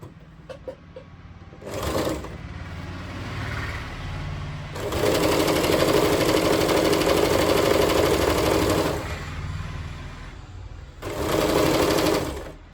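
A sewing machine stitches churidar pant pieces together in several bursts, a short run, a long steady rattling run and a final burst, with quiet handling pauses between them, close and clear with no talk.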